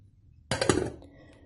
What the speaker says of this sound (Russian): Ставим кастрюльку на стол, накрываем крышкой